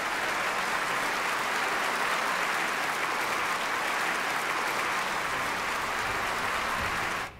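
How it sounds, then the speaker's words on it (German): Archived concert-hall applause plays from an orchestra audience, a dense, even wash of clapping that is loud and continuous, then cuts off abruptly at the end. "Wie gut, dass wir noch Applaus im Archiv hatten"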